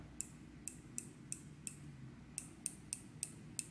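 Ceramic bezel on a Pagani Design Submariner Hulk watch turned in a run of crisp, faint ticking clicks, about a dozen spaced irregularly with a short pause midway, over quiet background hiss.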